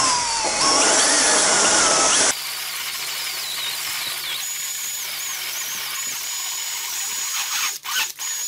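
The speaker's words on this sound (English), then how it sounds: "Switching back to the fine burr to taper and even up that transition." A rotary tool with a fine burr whines as it tapers a wood repair, a loud high-pitched buzz in one stretch, then a steady lower hum that dips briefly near the end.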